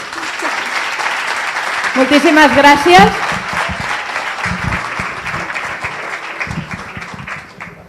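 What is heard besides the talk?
audience applause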